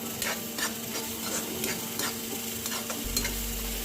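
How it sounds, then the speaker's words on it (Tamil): Onions sauté in a pan for paruppu urundai kuzhambu, a soft sizzle broken by repeated scraping strokes of a stirring spoon. "இதையும் சேர்த்து வெங்காயத்தை கூட நல்லா வதக்கி விட்டுக்கலாம்."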